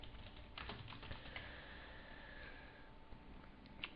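Someone types on a computer keyboard, with quiet, close, irregular key clicks tapping through a faint, steady room background.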